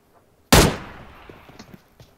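A single loud gunshot from a weapon in PUBG Mobile, a sharp close crack followed by a decaying echo and small faint clicks and thuds afterward.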